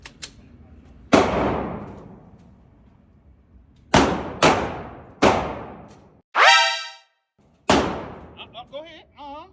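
Several sharp Glock pistol shots ring out at an outdoor shooting range, loud single cracks spaced a second or more apart with echoing tails, followed by a short whistling tone and a few faint squeaky sounds.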